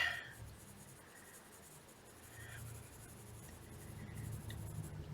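Faint, steady scratchy rustle of a coloured pencil lightly shading skin tones on paper with very little pressure, continuous and close, with no talking over it.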